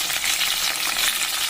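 Curry leaves, shallots and garlic fry in a hot pan with a steady, dense sizzle that stays constant and close for the whole stretch, with no voices.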